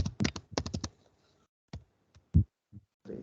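A computer keyboard gives a quick run of crisp key clicks, then a few isolated taps and a louder thump after a pause, close up and with no talking.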